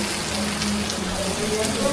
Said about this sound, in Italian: è arrivata la pioggia, quella vera, qua fuori